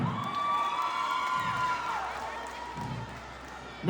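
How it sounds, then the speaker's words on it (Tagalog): A crowd at a live show applauds and cheers for the captain, a steady wash of clapping and shouts with a loud amplified voice ringing over it. "Palapakan natin si kapitan!"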